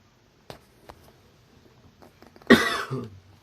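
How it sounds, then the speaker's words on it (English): A single sharp cough bursts out close to the microphone after a few quiet taps and small mouth noises, loud against an otherwise near-silent background. "There's a cough, my bad, I apologise."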